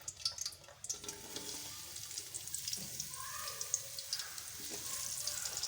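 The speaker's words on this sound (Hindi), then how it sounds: "अब इसे फ्राई कर लेते हैं।" Sliced onions sizzle in hot oil in a kadai, a soft steady crackle and hiss heard close and alone at low volume.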